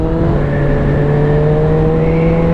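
Suzuki GSX-F 650 four-cylinder motorcycle engine running steadily while riding, a smooth continuous drone with sustained harmonic tones and slight pitch drift, close and moderately loud throughout with no voices.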